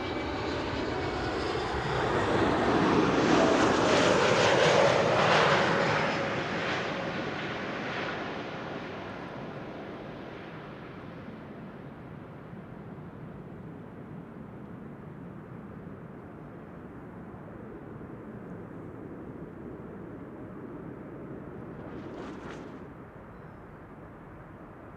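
An Icelandair Airbus A321neo landing at Amsterdam Schiphol roars past, swelling loud then fading into a long drawn-out whoosh and rumble of its wake, with a brief higher hiss near the end.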